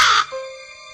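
A raven gives a single harsh, loud caw close by, used as an audiobook sound effect, cutting off abruptly into a quiet ringing tail.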